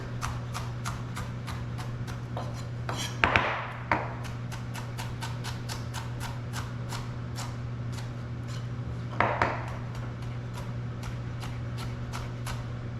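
A knife chops a fine dice of vegetables on a cutting board in steady, quick taps, with a few louder clatters and a constant hum underneath.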